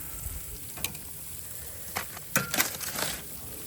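A NY strip steak searing on a Weber 26-inch kettle grill, a steady close sizzle broken by scattered pops and crackles of fat.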